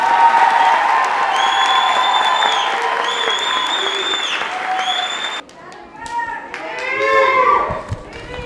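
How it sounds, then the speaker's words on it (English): A crowd at the Association House 2019 graduation ceremony gives the graduating class a sustained round of loud applause mixed with whistles and cheers. Partway through, the clapping thins into more scattered cheering and voices. "So let's give them one last round of applause."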